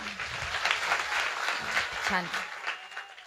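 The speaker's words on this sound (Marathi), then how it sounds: "टाळ्या सुद्धा बुरबुरी सारख्या नाही, तर जोरात वाजल्या पाहिजे" An audience at a devotional kirtan gathering claps loudly and continuously in a dense, sustained burst of applause. A voice speaks briefly over it.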